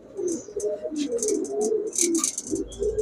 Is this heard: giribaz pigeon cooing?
yes